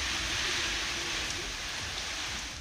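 Heavy rain pours as a dense, steady hiss throughout this brief moment of news footage.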